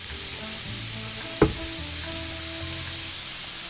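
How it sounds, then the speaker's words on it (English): Onion and carrots frying in a preheated pan, a steady close sizzle with one brief clatter of stirring partway through. "The vegetables should be thoroughly fried to achieve the acquired taste."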